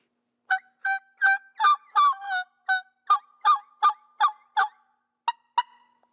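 A clear, high-pitched single or double reed turkey mouth call with no cuts yelps in a steady series of about eleven clean notes, then two brief chirps after a pause, close and without rasp.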